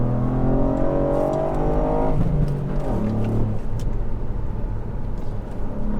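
Ford Fiesta ST MK8 with its three-cylinder engine accelerating hard uphill on a winding road, a loud, close engine note climbing steadily in pitch for about two seconds before shifting gear and pulling on under a steady roar.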